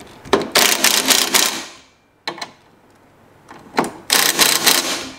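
Ratchet wrench tightening bolts on a Tony Kart chassis, close and loud: two rapid bursts of clicking, a short pause with a couple of isolated clicks, then two more bursts.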